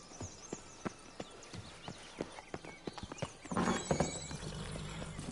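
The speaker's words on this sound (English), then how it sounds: "that's certainly a horse" A horse's hooves clip-clop in a steady trot in the video game The Witcher 3: Blood and Wine, followed by a sharp whinny near the end, fairly close.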